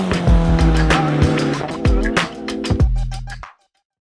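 A 400-horsepower Subaru WRX Bugeye on the move, its engine droning and rising through revs with sharp gear-change breaks, close and loud, before cutting off abruptly.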